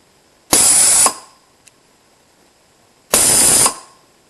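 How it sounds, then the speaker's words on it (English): An air solenoid on a flame-detection rig fires twice, each a loud, close hiss of about half a second with a sharp start and stop, separated by a couple of seconds of quiet and one faint click. "this will come on and activate the solenoid, which would blow out the flame"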